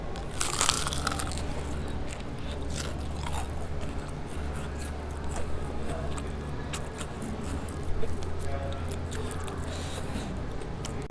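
Crunching on crispy fried chicken at a restaurant, repeated crackling bites and chewing close to the mic against a low background hum.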